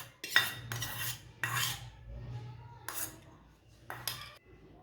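A spoon scrapes and clinks against a dish while scooping mayonnaise, five short close scraping strokes with soft gaps between them.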